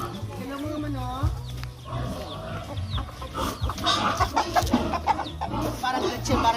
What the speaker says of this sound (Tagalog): Ito po yung ating mga pangtinolang manok.